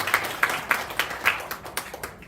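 Scattered hand claps from a small audience at a Korean sports AI and big data conference presentation, about eight separate sharp claps spread unevenly over a couple of seconds, moderately close, with no talk over them.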